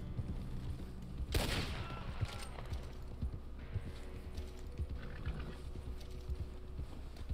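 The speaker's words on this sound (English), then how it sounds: "This poor horse is freaked out." Frightened horse in Red Dead Online, its hooves clopping steadily while a burst of gunfire cracks out early on, followed by continued galloping and scattered shots in the background.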